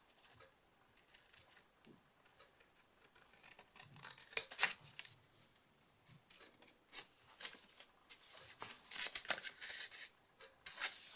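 Scissors snip through card paper at a close, quiet level in a sequence of soft cuts and crisp clicks with short gaps between them.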